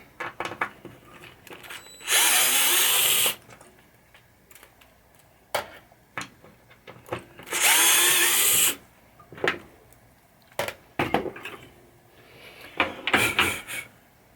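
A power drill backs screws out of a 1980 Williams Firepower pinball machine during a slingshot install: two sustained whirring bursts about a second long each, with scattered clicks, taps and handling knocks in between and a final short burst of drilling.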